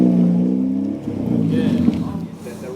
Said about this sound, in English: Thing sounds rude. Recently fitted a side exit exhaust on it.